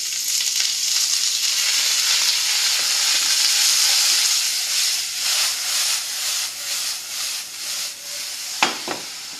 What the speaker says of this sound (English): my aubergine is now starting to make a larger sizzle